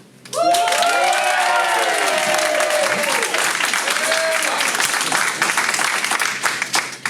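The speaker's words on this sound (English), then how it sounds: "I'd like you to applaud for FIRST" A large audience at a school talent show bursts into loud, sustained applause mixed with cheers and shouting voices, continuing strongly for several seconds.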